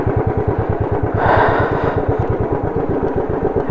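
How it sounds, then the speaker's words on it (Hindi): A motorbike engine runs close by at a waterfall viewpoint in Tripura, a loud steady chugging pulse that swells briefly and continues throughout. "देखिए ये रहा बाइक, यहाँ पे लॉक कर देता हूँ।"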